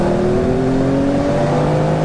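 Porsche 993 911 Turbo, fully built to about 940 bhp, pulling hard with a steady loud engine drone and rising harmonic whine, close and continuous for about two seconds with no talk.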